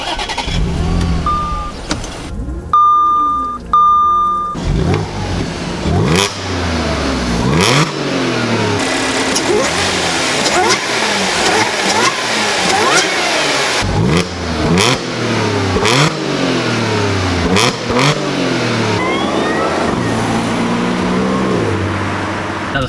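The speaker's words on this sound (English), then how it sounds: "Now it's time to take this S4 out on the road and see what she's got." A Stage 2 APR-tuned 2011 Audi S4 (B8) starts up and pulls hard down the road, its engine loud and close, revving up through repeated rising sweeps and dropping back at each gear change.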